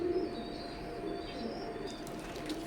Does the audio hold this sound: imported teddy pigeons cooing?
yes